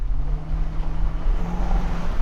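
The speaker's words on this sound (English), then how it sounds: "That exhaust never gets old" A 2024 Nissan Patrol Warrior exhaust gives a steady, deep low rumble with a droning tone, close and fairly loud, with wind noise and no voices.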